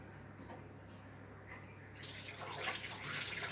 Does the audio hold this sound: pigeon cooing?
no